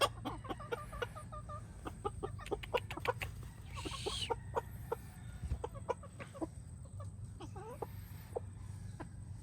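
Several chickens cluck in quick, repeated bursts close by at a tiny house in the Philippines, with a brief louder squawk partway through over a low background hum.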